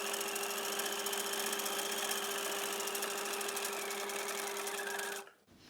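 A Bernina 1008 sewing machine stitches a buttonhole in a steady, fast, even whir with a rapid needle rhythm, running loud and close for about five seconds before cutting off sharply.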